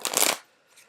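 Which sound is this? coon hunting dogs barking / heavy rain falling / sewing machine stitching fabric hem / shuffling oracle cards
shuffling oracle cards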